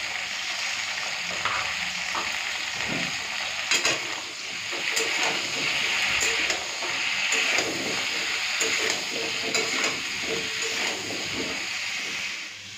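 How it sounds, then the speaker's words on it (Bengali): Potato and cauliflower pieces frying together in oil, salted and sprinkled with turmeric, giving a steady sizzle with intermittent utensil clinks and stirring scrapes close by. "তো আলু ফুলকপি একসাথেই ভেজে নিচ্ছি।"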